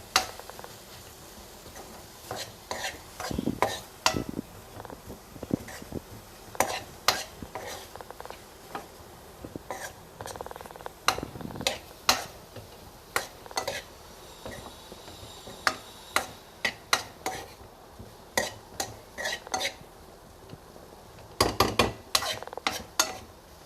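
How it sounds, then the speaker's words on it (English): Onion and tomato being stirred in a pan, with a utensil scraping and tapping against the metal in irregular bursts throughout, over a quiet background and no talk. "will stir for 1-2 minutes and then cover it"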